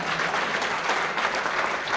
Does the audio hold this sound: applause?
yes